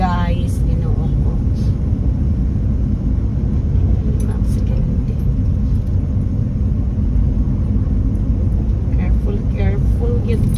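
Road traffic rumbles steadily from inside a moving car heading home from grocery shopping, a loud, constant low drone with occasional higher passing noises, while people talk over it.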